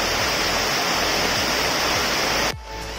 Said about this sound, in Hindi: मतलब बहुत तेज बारिश हो रही है